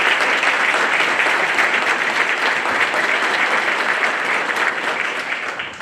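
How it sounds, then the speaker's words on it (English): Sustained applause from an awards ceremony audience honoring regional guests and dignitaries at the Louisiana Students of the Year event, dense steady clapping throughout that tapers slightly at the end. "big round of applause."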